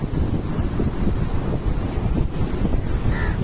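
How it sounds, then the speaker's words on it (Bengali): Large ocean waves roll and crash on a shore, heard as a loud, continuous rumble and wash mixed with heavy wind buffeting the microphone. "এই দেখো বিশাল আকারের ঢেউ"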